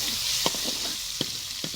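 Hot ghee sizzles and hisses steadily as spices are tempered for dal, with a few sharp crackles and the clink of a spoon stirring, close up and quiet, no talking.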